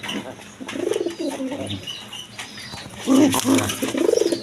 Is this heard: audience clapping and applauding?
no